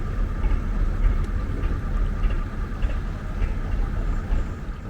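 An old two-cylinder 18-horsepower narrowboat engine chugs steadily nearby with a low, rumbling, uneven throb, loud and continuous with no talking.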